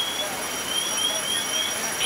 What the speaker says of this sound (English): low pressure alarm's going off